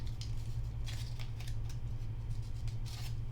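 Scissors cutting paper while making a paper rose, heard as a series of close, crisp snips over a low steady hum.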